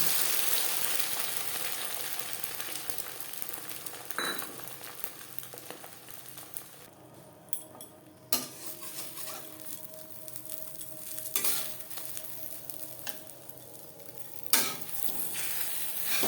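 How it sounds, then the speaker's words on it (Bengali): Beaten eggs frying in a little refined oil in a wok for an omelette, a steady sizzle with occasional sharp scrapes and clinks of a utensil stirring against the pan, no talking. "দিয়ে দিয়েছি কড়াইতে খুবই সামান্য পরিমাণে রিফাইন্ড অয়েল এবার দিয়ে দেব ফেটিয়ে রাখা ডিম"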